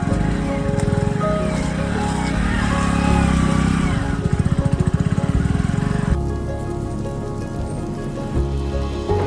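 A motorcycle is ridden along a rainy forest road toward Sheshpagar waterfall in Gariaband, Chhattisgarh; its engine drones and pulses up close amid rain-like hiss, then eases to a lower idle-like hum.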